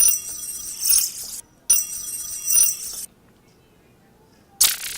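Sampled sound played as a software instrument in Ableton with a long release, two sustained bright shimmering notes with clinking glassy attacks, then a pause and a third note starting, with no talk.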